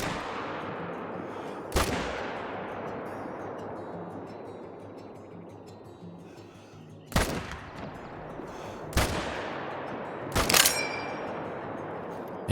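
Rifle shots are fired at deer in the hunting video game Call of the Wild. Four sharp, loud cracks ring out at uneven intervals over a steady outdoor ambience, with no talk.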